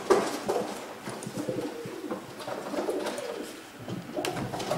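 Pigeons coo softly and repeatedly nearby, low throaty calls overlapping in a gentle, continuous murmur.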